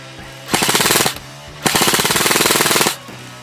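A G&G airsoft gun fitted with a 40,000 RPM high-speed motor fires two loud, rapid full-auto bursts, a short one followed by a longer one of very fast, evenly spaced shots, heard up close with no talking.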